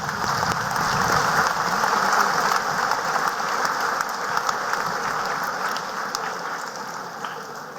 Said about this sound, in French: À nous donner un grand applaudissement à eux tous.